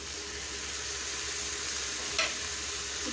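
Chicken pieces added to a pan of frying onion and ginger garlic paste for Chindamani chicken, giving a steady close sizzle with one brief scrape of stirring near the end.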